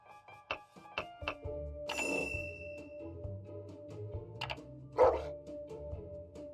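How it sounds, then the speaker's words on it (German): Dog barking in the video game Death Coming, a few short barks amid busy game effects and chiming tones, moderately loud against a steady background hum. "Hier haben wir noch einen Hund."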